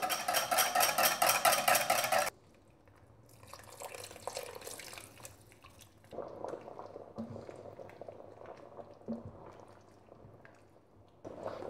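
A pot of lamb stew with beans and potatoes bubbles and simmers, with soft drips and small pops at close range after a brief loud burst of noise at the start.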